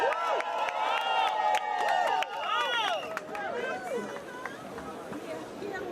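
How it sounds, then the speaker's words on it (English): A crowd at an outdoor LGBTQ+ refugee rights rally in downtown Toronto cheers and claps for a speaker. Whoops and raised voices ride over scattered clapping, with chatter mixed in throughout. "A round of applause for Reverend Dina, please."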